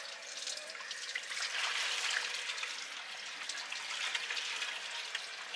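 Water runs from a tap aboard a sailboat as a steady splashing trickle, moderately loud and close, with no voices.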